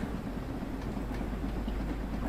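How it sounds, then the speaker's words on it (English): A steam locomotive in Train Sim World 2 runs along the line with a continuous low rumble and faint rhythmic chuffing, steady throughout with no speech. "Just increase the speed of the train as we continue down the line."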